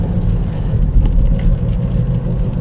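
Interior of a car driving in the rain, a steady loud low engine and road rumble with a constant wash of hiss from rain and tires, unbroken and without talk.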